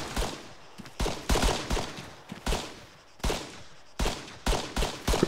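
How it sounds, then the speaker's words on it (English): Enemy gunfire in ArmA 3 rips through in repeated loud bursts of rapid shots, each volley separated by brief pauses, close and punchy with no talking. "Enemy fire!"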